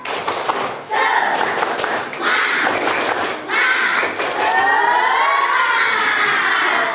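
A school class does tepuk semangat, rhythmic spirit clapping: sharp claps land in quick patterned bursts, then give way to loud children's chanting and shouting that carries to the end.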